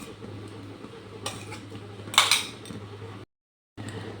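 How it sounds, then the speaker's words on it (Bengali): Mango pulp stirred into milk in a pot over a low gas flame for mango kheer, giving soft metallic scrapes and clinks of a spoon against the pot with a low steady hum beneath. "এইভাবে একটু অনবরত নাড়তে হবে যাতে তলায় না লেগে যায়"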